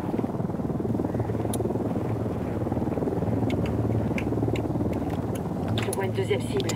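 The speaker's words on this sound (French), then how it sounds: "Hélicoptère derrière toi," Helicopter in the video game Ghost Recon Wildlands, a steady low rotor thrum droning continuously beneath someone talking, with a few sharp clicks and bursts on top.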